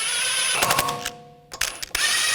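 Ratchet wrench snugging bolts on the rear sway bar links of a 2010-2014 Volkswagen GTI, a close, rapid clicking of the pawl in bursts with a brief pause between them, no talk.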